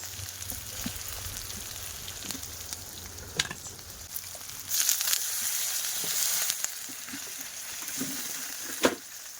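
Meat sizzles while being sautéed in a pan over a wood-fired stove, a steady frying hiss with occasional stirring scrapes and taps, swelling louder midway when it is turned.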